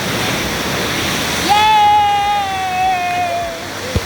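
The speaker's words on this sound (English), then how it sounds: "We are getting near to the waterfall here." A waterfall in Pahang pours with a loud, steady broadband rush close by, and a long, high, whistle-like tone rises over the roar in the latter half.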